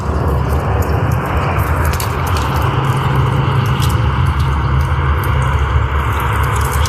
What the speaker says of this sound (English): I always got a plane flying over right in time.